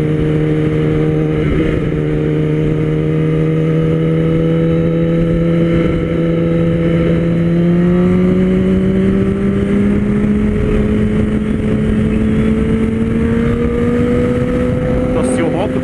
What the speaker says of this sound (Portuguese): o ronco dessa moto é um show à parte